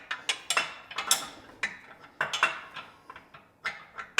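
Bolt being tightened on a Yakima EXO SwingBase hitch: a string of sharp metallic ratcheting clicks in uneven bursts, close by and fairly quiet, with no voices.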